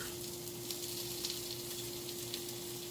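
Keto grilled cheese sizzles in a pan just after being flipped, a soft, continuous frying hiss with a low steady hum beneath and small pops, no voices.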